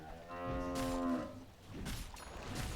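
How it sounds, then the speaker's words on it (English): A cow-moo emote from the Dota 2 video game sounds once: a single drawn-out low moo lasting about a second, followed by a noisy background wash. "I really like this mooing emote they added."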